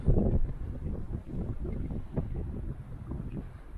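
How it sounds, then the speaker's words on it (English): Strong wind roars and buffets the microphone in a steady, low rumble in Heddon Valley, North Devon, gusting harder at the start and staying constant throughout. "the wind is actually very strong and constant"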